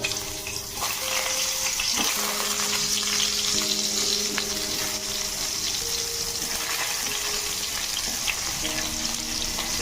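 Potatoes frying in hot oil in a kitchen, a dense, continuous sizzle and crackle that stays loud and steady throughout, with faint clinks of a stirring utensil.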